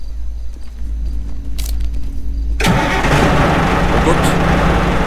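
A car engine cranks and catches after being hotwired in the game Hitman Absolution, then runs loudly as a steady broadband roar, with quieter game ambience before it.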